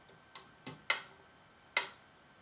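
A few sharp mechanical ticks at uneven spacing from a Wittner metronome set slower, clear and close in a quiet room, with short gaps between them.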